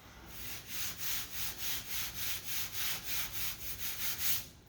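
Hand sanding block scraped back and forth over body filler on a dented car panel with light pressure, a steady rhythmic run of about fourteen close, even strokes and no talking.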